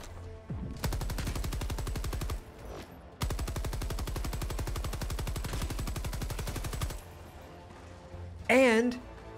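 Machine gun fire in the video game Helldivers 2: two long, rapid sustained bursts of closely spaced shots, loud and in the foreground, with a short gap between them and a warbling electronic game sound after.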